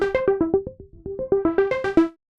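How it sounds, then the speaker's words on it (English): A synth arpeggio of quick repeating notes that turns duller and muffled midway as the filter closes, then opens back up brighter. "if I roll off this cutoff, it sounds like this"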